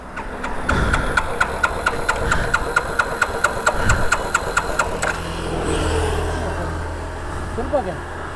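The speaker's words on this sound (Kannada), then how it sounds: "ಇದೇನೋ ಬೈಕ್ ಸ್ಟಾರ್ಟ್ ಆಗ್ತಾ ಇಲ್ಲ." A motorbike engine cranked repeatedly without catching, a rapid rattling series of starter clicks for several seconds that then stops, with voices talking nearby.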